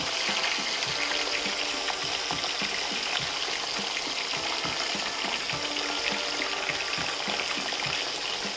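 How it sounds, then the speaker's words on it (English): Pork pieces fry in hot oil, giving a dense, continuous crackling sizzle with scattered pops, close and steady throughout with no voices. "we're gonna go in there and cook the pork all the way through, about a minute, for a minute to 2 minutes"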